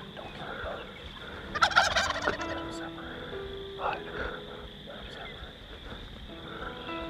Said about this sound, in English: The turkeys are getting spooky